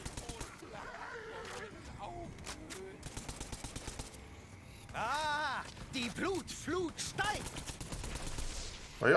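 Rapid gunfire bursts and single shots crack through combat in Tiny Tina's Wonderlands, some in tight machine-gun rattles and others spaced out, with someone speaking between volleys.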